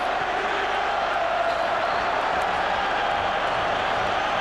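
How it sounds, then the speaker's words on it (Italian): Lazio supporters shout and chant in a packed stadium during a 1998-99 Serie A Roma–Lazio derby, a steady, loud, continuous crowd roar filling the whole stretch without a break. "i tifosi della Lazio si fanno sentire e urlano"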